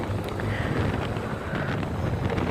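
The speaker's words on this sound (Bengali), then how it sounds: "আজকে অনেক দিন পর মানে জোরে বাইক রাইড করতে হচ্ছে" Steady roaring wind buffeting the microphone of a motorbike ridden fast in a group race near Balihar Rajbari, Naogaon, continuous and loud throughout with no speech.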